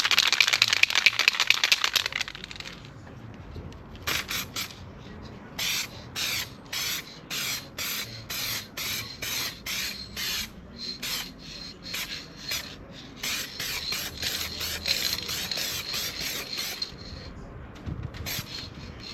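Aerosol spray can applying paint to a car panel at home, bursts of hissing spray in repeated short passes, with a long continuous burst at the start followed by rhythmic on-off squirts.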